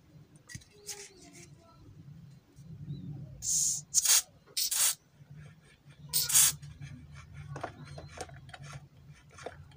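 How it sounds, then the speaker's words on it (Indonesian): Cleaning fluid sprays from a can onto a sluggish Yamakawa desk fan in several short hissing bursts, near and loud, mixed with small clicks and rubbing of the fan parts between sprays. "Dan dia belum lancar meskipun saya semprot pakai cairan pembersih"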